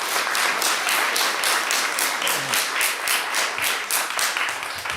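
A crowd claps steadily and loudly at a planning commission meeting, sustained applause filling the whole stretch with no one speaking over it.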